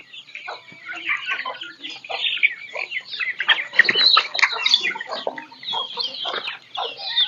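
Chickens cluck and squawk nearby in a busy, irregular chatter, with short excited calls overlapping throughout and no one speaking.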